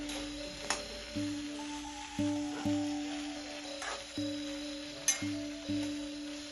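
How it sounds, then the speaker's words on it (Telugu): Red chilli pieces fry in oil while a spoon stirs them for a pandu mirchi pickle, giving a soft steady sizzle with faint scraping strokes beneath a sustained tonal background. "మాడిపోకుండా అన్నీ సరిగ్గా వేగేటట్టు ఒక స్పూన్తో కలుపుకోవాలి"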